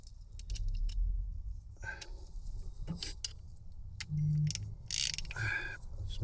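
Ratchet clicks come in short bursts while bolts are undone on the gearstick of a front-wheel-drive Triumph during bush replacement, close and intermittent with metallic clinks and handling noises between them.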